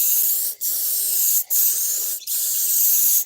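A spray gun lays down Steel Dog car paint in a continuous close airy hiss, broken by three short pauses where the trigger is released and squeezed again.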